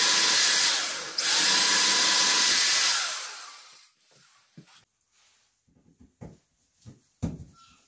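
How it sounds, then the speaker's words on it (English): A loud, steady power drill whirs into a wall for about three seconds, winds down, then a few faint knocks and taps follow in near silence. "Just gonna mark up the area where I need to drill the hole."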